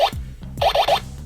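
Captain Power toy gun from the 1980s firing, a series of short electronic zapping blasts with bright warbling tones and falling pitch sweeps, several quick shots close up and alone.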